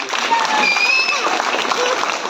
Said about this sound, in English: Avangalukkaga ஒரு big round of applause